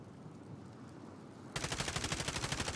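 Automatic gunfire in the Warzone video game, with a sustained, evenly paced rapid burst of shots that starts abruptly partway through and stays loud and close, after a stretch of quieter in-game rumble.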